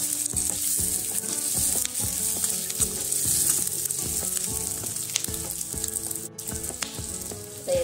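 Chopped garlic, green chili and ginger sautéing in a pan for a spice paste, a steady close sizzle with scraping stirs and clinks of a spatula, no talking.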